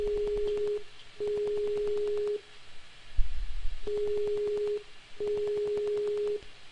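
An outgoing Skype call tone repeats in regular pulsed bursts with short gaps, fairly loud and alone, with a brief thump in the middle.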